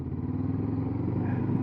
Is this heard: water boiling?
no